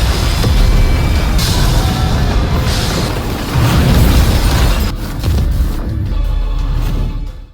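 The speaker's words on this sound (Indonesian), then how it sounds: "Ledakan yang kuat memang terjadi," A loud, powerful atomic bomb explosion in an animated series roars continuously, a deep rumbling blast with crackling debris that stays intense for several seconds before tapering off.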